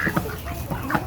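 Ducks or geese quack in short bursts close by, several calls in quick succession as they peck at food from a hand, with some background murmur.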